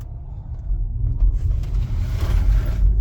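An Audi e-tron S electric car accelerating hard from inside the cabin: a deep, loud, rising low rumble of motor and road noise building steadily, with no engine revving notes and no voices.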